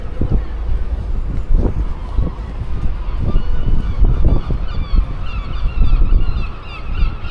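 Loud gull calls ring out over Dublin, squawking in clusters against gusty wind and low traffic rumble, strongest toward the end.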